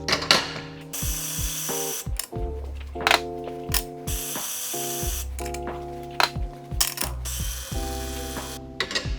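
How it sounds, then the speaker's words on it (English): A Mahlkonig E65s coffee grinder purging leftover grounds from its chamber gives a close, loud mechanical whir with grinding rattles, broken by short stops and restarts and sharp clicks between runs. "before you turn it off, just purge any coffee that might be stuck in the chamber"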